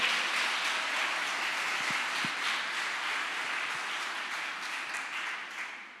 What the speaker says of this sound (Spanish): Déle un aplauso al Señor, celebre.